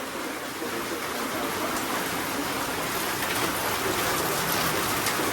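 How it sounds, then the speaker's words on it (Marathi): Steady rain falls outside, a continuous broadband wash of close patter that holds at an even, fairly loud level from start to finish with no voices. "बाहेर पाऊस पडतोय"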